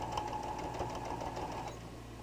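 A sewing machine stitches steadily through a quilted jelly roll heart hotpad, its needle giving a fast, even mechanical whirr and patter that runs quietly on its own.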